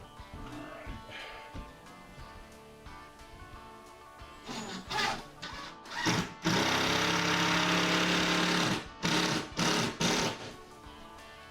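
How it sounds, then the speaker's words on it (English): A power driver running screws tight into wall cabinets, a quiet background hum that gives way to several loud whirring bursts of the driver, close and separated by short pauses. "We're running these screws in tight for now."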